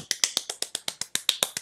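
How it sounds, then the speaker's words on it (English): A single person claps quickly in a steady rhythm, about a dozen sharp, close claps in under two seconds during a children's sing-along. "Clap them fast."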